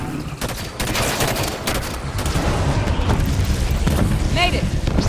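Heavy Halo 5 gunfire and booming blasts fill a loud battle scene, sustained and dense throughout, with a voice speaking over the combat.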